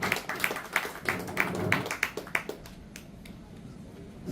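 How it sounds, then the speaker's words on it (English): A small audience at a corporate AI event claps in a brief round of applause. The claps are sparse and fairly distinct, then fade out after about three seconds. "Round of applause for the audience."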